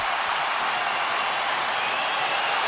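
A hockey arena crowd at an NHL preseason game between the Montreal Canadiens and Ottawa Senators roars and applauds steadily after a fight takedown, a broad, sustained wash of cheering.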